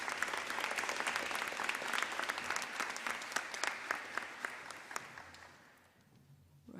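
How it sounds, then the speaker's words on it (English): An audience at a school awards ceremony claps loudly and steadily for several seconds, the applause thinning out and fading near the end. "Please give those girls a round of applause."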